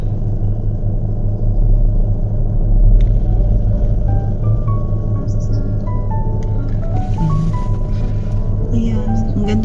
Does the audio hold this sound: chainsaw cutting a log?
no